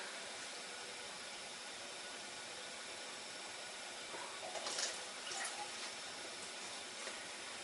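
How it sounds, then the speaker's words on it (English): Mixed oil and milk poured into chocolate cake mix in a bowl, a soft continuous liquid splashing and trickling that rises briefly in the middle, quiet and steady with no talk. "you have 150 ml of oil and 150 ml of milk, which has been mixed together. Now pour that into your mix."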